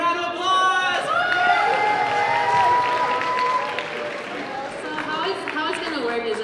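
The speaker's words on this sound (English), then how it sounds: "So give a round of applause!" An award show audience applauds and cheers in a loud, sustained burst of clapping, with crowd voices and chatter mixed in before the applause thins out toward the end.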